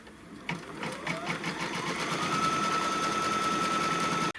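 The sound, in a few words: embroidery sewing machine stitching the tack down through all layers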